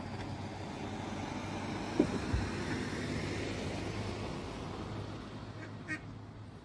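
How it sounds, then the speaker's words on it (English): A duck quacks and honks faintly in an outdoor seaside setting, with a couple of brief calls standing out against a low, steady traffic-like background hum. "Stop quacking at me."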